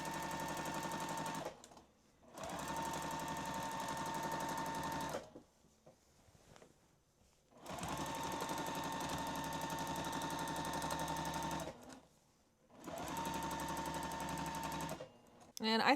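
A sewing machine stitches free-motion quilting in three long, steady runs of fast, even whirring, close and fairly loud, separated by short pauses.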